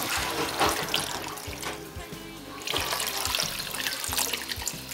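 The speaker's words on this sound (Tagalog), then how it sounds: "dagdagan mo natin ng tubig" Water pours steadily from a tap into a cooking pot while a dish is being softened, a continuous close splashing rush with no talk.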